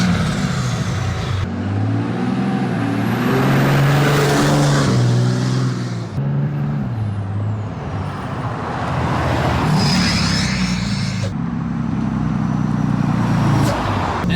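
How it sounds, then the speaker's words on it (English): A truck engine revs hard and drops through gear changes, with loud sustained acceleration broken by abrupt shifts and the chattering of engine braking, running continuously for over ten seconds. "It's so fun just to try to time the perfect time to hit that engine brake."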